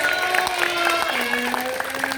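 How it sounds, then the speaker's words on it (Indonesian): Applause breaks out for a pupil at an elementary school Teachers' Day ceremony, a short burst of scattered clapping from children under a steady background hum. "Tepuk tangan."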